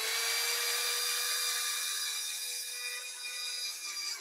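Drill boring a hole in aluminium clamped in a vise over a wooden block, a steady, bright high-pitched whine that runs unbroken for about four seconds, fading slightly toward the end, with no talking.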